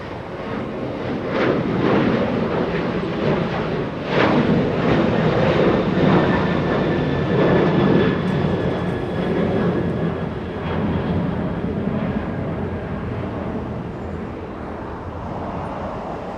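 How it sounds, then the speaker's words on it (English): A Boeing 737 lifting off at LAX produces a loud, sustained jet roar that swells and then eases slightly, with a faint whining engine tone drifting through the noise. "A 737 lifting off"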